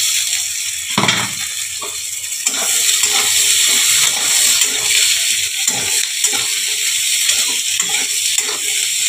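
Potatoes sizzle and hiss steadily in hot oil in a pan for a Bengali small fish curry, a continuous bright crackle with occasional stirring clatter, close up and without talk.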